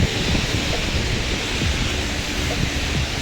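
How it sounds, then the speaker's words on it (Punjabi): Heavy rain pours down in Sharjah, a dense, loud, continuous roar of falling water with low rumbling and no pauses. "ਮੀਂਹ ਨੇ ਨਹੀਂ ਹਟਣਾ ਸਾਨੂੰ ਛੱਤ ਥੱਲੋਂ ਹਟਣਾ ਪੈਣਾ"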